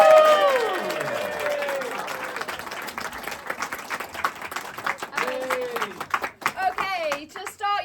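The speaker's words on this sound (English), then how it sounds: "a really warm round of applause" Audience clapping at an improv graduate showcase, loud at first and then thinning into scattered claps as the room settles, with voices and laughter-like calls over the top.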